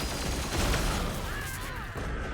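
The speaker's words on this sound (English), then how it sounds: "More explosions in the back" Explosions and gunfire in the video game Warhammer 40k Chaos Gate form a continuous dense roar of booms and crackling blasts, with a brief whistling sound partway through and no clear talking.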